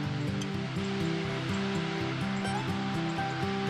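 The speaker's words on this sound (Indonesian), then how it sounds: "Lihat tuh, ada air terjun." A waterfall seen from the Mount Rinjani trail: a steady rushing wash of water throughout, with a droning tone layered underneath and no talking.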